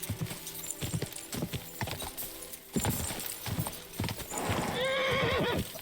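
A horse in Kingdom Come Deliverance II gallops with rapid, loud hoofbeats on the ground, then lets out a drawn-out whinny near the end, with faint speech in the mix.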